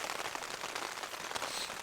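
Steady rain patters on a tent while camping on England's highest mountain, a dense continuous hiss of close drops with no talking, occasional sharper taps standing out.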